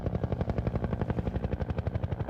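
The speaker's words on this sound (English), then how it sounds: "The choppers are coming." A helicopter passes overhead with a steady, rhythmic chop of rotor blades, fairly loud and close, pulsing evenly for the whole stretch with no talk over it.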